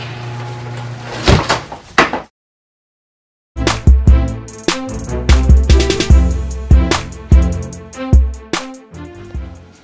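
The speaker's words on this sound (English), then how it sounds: "Garage door shutting." A garage door rumbles and rattles shut on a rainy night, then after a brief silence a series of sharp clanks and thuds follow in uneven bursts, loud and close.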